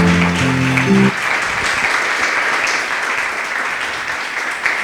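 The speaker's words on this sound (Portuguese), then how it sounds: "Louve ao Senhor com as suas palmas" A church congregation claps in praise of the Lord during a sermon service: a dense, steady wash of many hands that follows a brief musical chord and carries on loudly to the end.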